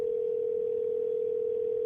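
A steady, unbroken telephone dial tone in a video game hums at moderate level without any pause, with faint background noise and no voices.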